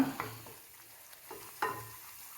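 Tomato pieces frying in oil for a coconut-ground mackerel curry, a quiet sizzle with a few soft stirring scrapes of a spoon against the pan, close and faint.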